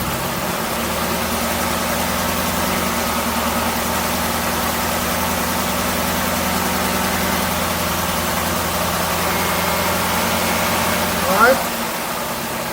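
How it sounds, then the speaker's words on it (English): Supercharged 2021 Camaro ZL1 1LE engine idling with a steady low drone, then a short throttle blip near the end, with a voice briefly heard over it. "give it some gas"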